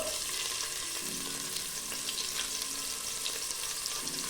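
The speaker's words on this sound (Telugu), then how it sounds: "ఇందులోకి ఒక మీడియం సైజ్డ్ ఉల్లిపాయ చీలికలు వేసుకుంటున్నాను" Medium onion slices sizzle steadily in hot oil with shahi jeera in a pressure cooker, a continuous close, even frying hiss with faint stirring clinks and no voices.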